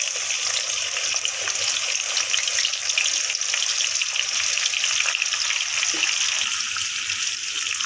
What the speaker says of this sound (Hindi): सबसे पहले हम इसमें प्याज डालेंगे